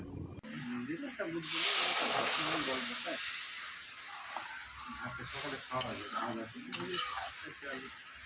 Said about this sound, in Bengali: এবার আমি মটরটা সেদ্ধ বসিয়ে দেবো